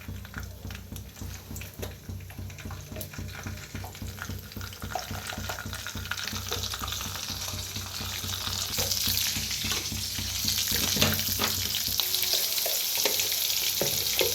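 Mustard seeds splutter in hot oil, a busy crackling sizzle of rapid small pops that thickens and grows a little louder partway through, close up, with no talking.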